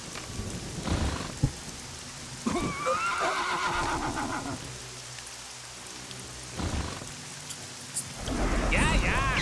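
Horses whinny and neigh in the real-time strategy game Battle Realms, several rising calls scattered over a rainy, stormy backdrop with rumbling thunder, fairly close and prominent.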